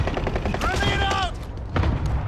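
Gunfire in a Call of Duty Rebirth match: a quick burst of shots, with a rising whine-like sweep partway through and another burst near the end, set against steady game noise and voices.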